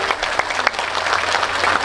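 Short burst of audience clapping at an indoor religious lecture, a dense patter of many hands, close and lively, lasting under two seconds.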